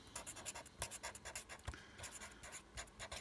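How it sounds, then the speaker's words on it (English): Pen strokes scratch across paper from a white-barrelled retractable pen with a 0.6 mm nib, a steady run of short, close, quiet scribbles with brief pauses, no voices. "like how this writes. It kind of feels like a felt tip pen."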